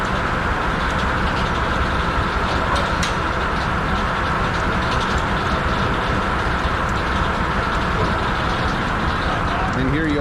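A loud, steady roar of machinery from an engine-driven sawmill at a threshing show, its blade and carriage running without a break and with no talk.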